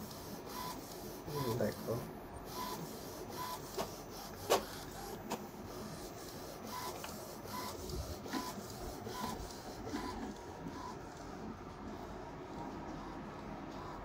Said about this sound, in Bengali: চলো দেখো বন্ধুরা কীরকমভাবে প্রিন্ট হচ্ছে